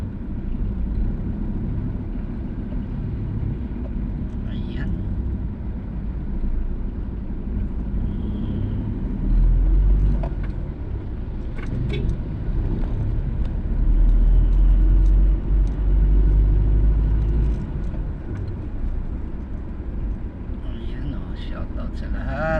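A car driving through heavy, slow traffic, with a steady low engine rumble and road drone that swells a little in the middle and stays close throughout.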